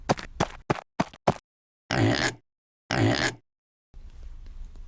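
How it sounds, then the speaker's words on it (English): A farm pig makes a quick run of five short, sharp grunts, then two longer, louder rasping squeals spaced a second apart, followed by faint background hiss, with no voices. "It's a pig."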